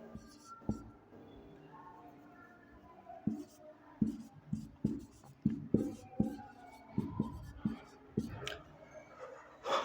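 Chalk or marker writing on a classroom board during a history lesson, a series of short scratchy strokes and taps in uneven rhythm, close and fairly clear, with faint talk in the background.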